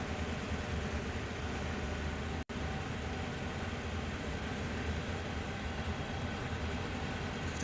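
Freight train rolling through the Horseshoe Curve in the Train Sim World 4 video game: a steady, dense rumble of engine and rail noise continues throughout, with one abrupt momentary dropout partway through and no voice.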